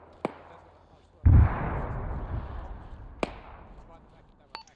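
Scattered gunshots in ArmA 3 crack out with long echoing tails: a sharp distant shot, a heavier booming report that rolls away for seconds, then two more isolated shots.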